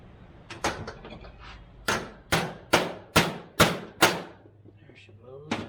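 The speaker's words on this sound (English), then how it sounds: "Starting to think I didn't have a big enough hammer." Hammer driving a pin out of a Ford F350 gear shifter, a series of sharp, loud metallic blows close up, about seven in fairly regular rhythm after a few lighter taps.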